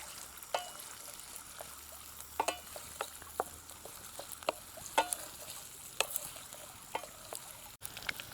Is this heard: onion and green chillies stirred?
yes